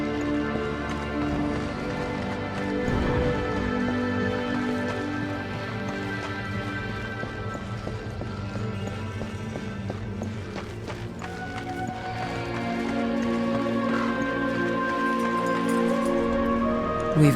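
Steady clip-clop of a horse's hooves in the video game Darksiders 2, a continuous rhythmic trot heard under a layered musical and ambient score.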